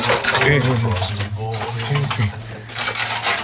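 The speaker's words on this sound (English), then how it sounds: "This is the way we wash the dishes." Dishes and cutlery being washed by hand, with steady clinking and scraping of plates and utensils, close and continuous, under a voice singing along.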